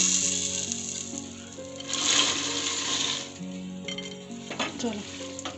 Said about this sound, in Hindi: अब इसको मिक्स कर रही हूँ